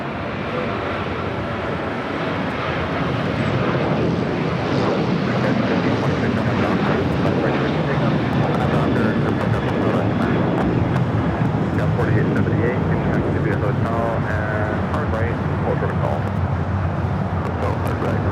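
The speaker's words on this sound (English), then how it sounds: "Next takeoff here on the south side, United Airlines flight 2377 heading to Houston, Texas" United Airlines Boeing 737-800 taking off from the south side at LAX, a broad roaring jet engine noise that swells after a few seconds and holds steady, heard from a distance with wind noise.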